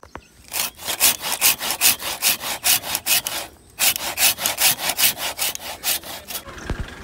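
A hand saw cuts through wood in steady back-and-forth strokes, loud and close, with a brief pause midway before the rhythmic rasping resumes, no talk.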